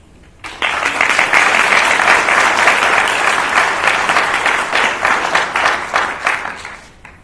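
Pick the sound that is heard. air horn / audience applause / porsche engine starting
audience applause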